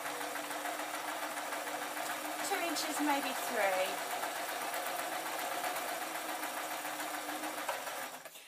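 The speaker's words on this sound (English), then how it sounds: "where I can sew it under the sewing machine" A sewing machine runs a short burst of straight stitching on an off-the-shoulder dress, its steady mechanical whir carrying near and fairly even while someone talks over it.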